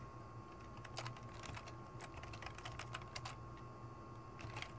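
Quick, light keystrokes on a computer keyboard come in an irregular patter, soft and close, as a quiz name is typed in an online course system. A faint steady hum sits underneath.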